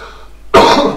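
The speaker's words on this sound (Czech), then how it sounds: "Trošku jsem se musel odkašlat" A single loud, close cough bursts out after a brief quiet moment, harsh and breathy, trailing off over about half a second.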